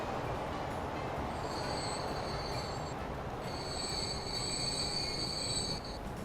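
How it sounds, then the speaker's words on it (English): In the Transport Fever railway game, a train pulls into a station platform. Its wheels squeal steadily in high, shrill tones over a constant rumble, with no talking. "here comes the next train, which is train 71. So this is going to switch into this platform."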